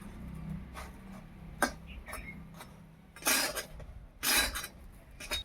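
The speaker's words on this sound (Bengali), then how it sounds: "বেগুনগুলোকে উল্টিয়ে দিচ্ছি" Brinjal slices are flipped in a dry pan without oil, making a few scattered clinks and scrapes of a utensil against the pan, with two louder broadband scuffs near the end, fairly close and otherwise quiet.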